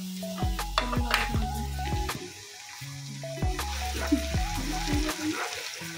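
Onions frying in a pan with mixed seafood, a steady sizzle broken by repeated clanks and scrapes of a utensil stirring, close and fairly loud, with no talking.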